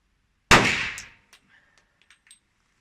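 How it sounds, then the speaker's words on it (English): A single sharp .357 SIG shot from a Glock 32 pistol, outdoors, with a subsonic round: one loud crack with a ringing decay, followed by faint scattered clinks and small ticks. "Here's one of the 357 shots."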